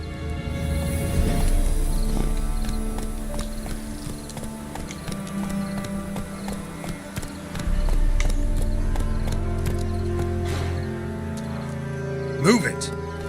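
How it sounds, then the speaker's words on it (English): Horse galloping in The Witcher 3: Wild Hunt, with rhythmic hoofbeats, creaking tack and low rumble running steadily throughout, under game music and a voice speaking. "Whoa there, Roach"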